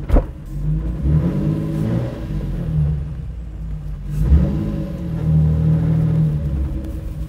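A Jannarelly Design 1 sports car pulls away with a loud, throaty engine rumble that rises in revs, dips briefly around the middle, then surges again as it drives off.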